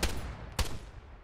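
Gunfire in the military shooter ARMA 3 comes as two sharp, loud cracks about half a second apart, each trailing off into rumbling echo.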